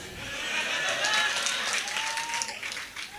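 Audience clapping at a live Hindi poetry recital by Dr. Hariom Pawar: a steady wash of crowd applause, moderately distant and fairly soft, lasting about three seconds before tapering at the end.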